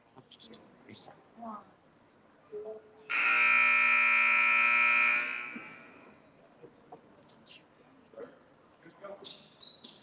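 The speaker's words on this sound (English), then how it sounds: "wait for the clock to run out and that buzzer to sound" A loud, sustained electronic game clock buzzer blares for about two seconds amid crowd noise at a middle school basketball game, with scattered voices and shoe squeaks before and after.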